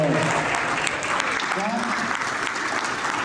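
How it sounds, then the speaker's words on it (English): Audience round of applause, a steady wash of clapping that fills the whole stretch, with faint voices mixed underneath. "can we please give him a round of applause for being here?"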